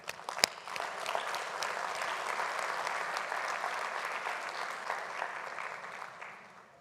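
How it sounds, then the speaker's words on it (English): Conference audience at a cultural policy session giving a warm round of applause, a broad wash of many hands clapping that starts with a sharp knock, stays steady, and fades out toward the end. "please join me again in acknowledging their interventions in the usual way with a very warm round of applause"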